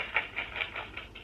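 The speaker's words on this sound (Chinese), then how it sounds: "那所以这是拍拍翅膀的声音。" Soft rhythmic flapping of an owl's wings from a Gruffalo sound book effect, about six quick, faint, evenly spaced beats heard alone.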